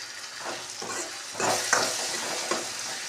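Tadka tempering sizzling in hot oil with cumin, salt and chili, a continuous close frying crackle with a few louder bursts as the spices are stirred, and no voices.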